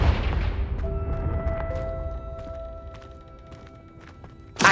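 Confringo fire spell blasting in Hogwarts Legacy, a loud crackling burst at the start that rings out over a fading tail, then a sharp second impact right at the end.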